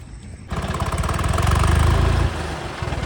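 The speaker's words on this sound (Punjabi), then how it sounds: "ਇਹਦਾ ਇੰਜਨ ਬੜਾ ਹੁੰਦਾ ਟਰੈਕਟਰ ਦਾ" A large tractor engine idles and runs nearby for about three seconds, a steady low rumble that swells louder through the middle before easing slightly, heard alone without talk.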